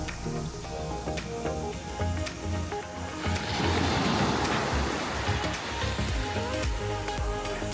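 Ocean surf on North Shore beach at Takapuna, New Zealand, a steady broadband wash of breaking waves that swells louder midway, with no talking.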